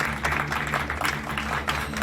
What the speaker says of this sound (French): malgré les applaudissements de la salle